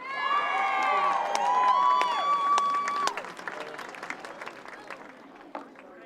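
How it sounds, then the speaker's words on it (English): An outdoor crowd at the National March for Life cheers and whoops for speaker Ryan Bomberger, high shouts and whistles over clapping that thins out to scattered claps. "Please give a warm round of applause to Ryan Bomberger"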